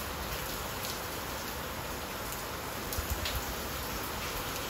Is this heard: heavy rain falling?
yes